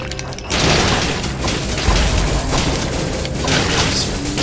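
A grenade blast in the video game Dead Cells, a loud broadband boom after a short quiet start, with dense crackling game effects and impacts running on for several seconds.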